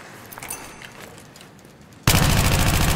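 Gunfire in the video game Battlefield: a loud, dense burst of shots starts abruptly partway through and keeps going, after a stretch of faint, scattered distant shooting.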